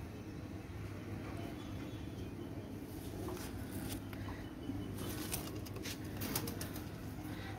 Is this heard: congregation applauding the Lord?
no